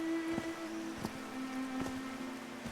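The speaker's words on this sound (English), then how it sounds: "These drops of rain are so refreshing." Steady rain falls in the video game Call of the Sea, a soft continuous patter with a few sharper drops landing close by, under a faint tonal hum.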